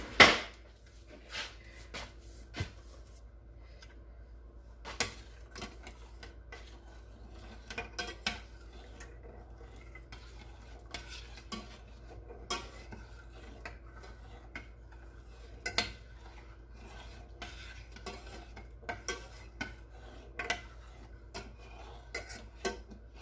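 Fettuccine Alfredo sauce being stirred in a pot with a utensil: sparse, faint metallic clinks and scrapes scattered irregularly over a quiet background, a sharper knock at the start.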